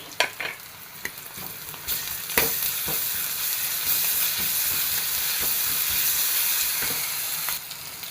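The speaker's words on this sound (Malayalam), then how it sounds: "ഒരു ചീനച്ചട്ടി എടുപ്പത്തി വെച്ചു രണ്ട് ടേബിൾ സ്പൂൺ ഓയിൽ ഒരു സവാള ഇഞ്ചി വെളുത്തുള്ളി പേസ്റ്റ്" Onion and ginger-garlic paste fry in two tablespoons of oil in a pan, a steady close sizzle and hiss with clinks and stirring knocks early on, no voices.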